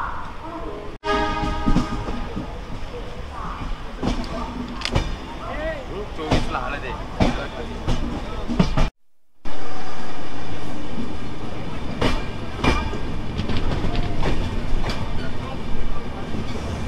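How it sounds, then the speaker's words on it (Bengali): Express train on the Mumbai CSMT line rolling along the rails near Pune, a steady loud rumble with rhythmic wheel clatter throughout, briefly cut out partway before resuming, with faint talk beneath. "এক্সপ্রেস ট্রেন, আর উপর দিয়ে যাচ্ছে হচ্ছে মেট্রো ট্রেন।"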